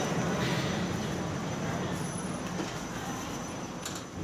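A rumbling KTM train hum fills a station in Kuala Lumpur, Malaysia, steady and broad, with a brief high metallic squeal near the end.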